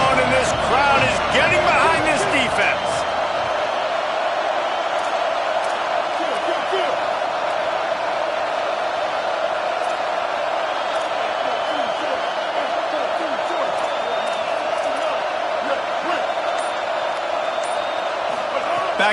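Stadium crowd noise from a college football video game, Iowa hosting Auburn on a big third down in the red zone, roars as a dense, loud, continuous wash throughout.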